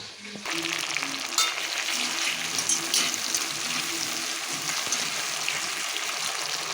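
Mango pieces and curry leaves frying in a pan make a continuous, close sizzle and crackle with occasional stirring sounds, and faint music plays underneath.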